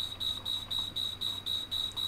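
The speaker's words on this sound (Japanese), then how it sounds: "このアラームが何かわからなかったんですけど、これ水切れですね。" A steam cleaner's low-water alarm beeps in a steady repeating pattern, eight short high-pitched tones evenly spaced at roughly a quarter second apart, moderately loud over a faint background hum.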